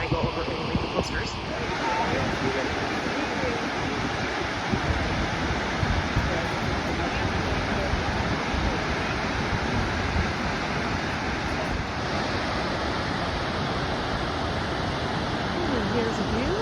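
Twin Falls pours through a rock canyon on the Snake River, a broad, constant roar of falling water with steady hiss and rumble, loud and continuous, with a voice present at times.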